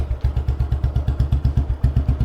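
A single-cylinder Bullet motorcycle idles nearby, loud and close, with a slow, even thumping beat, each pulse distinct.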